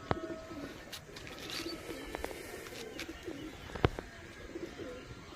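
Soft pigeon coos repeat at intervals against a busy outdoor background, with scattered chirps and a sharp click partway through.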